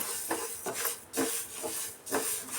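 Moong dal is dry-roasted in a pan for payasa, a soft hiss with rhythmic scraping strokes as it is stirred, close and fairly quiet, with no talking.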